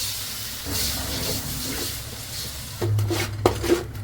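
Beaten eggs, six of them seasoned with salt and pepper, hit a hot pan for fried rice with a soft steady sizzle and hiss, rising into sharper crackles and a clink of utensils near the end, quiet and without talk.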